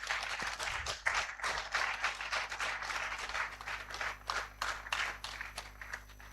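Scattered, fairly faint applause at an academic conference in honour of a professor, uneven claps with gaps and a quiet hum underneath, as a speaker is welcomed.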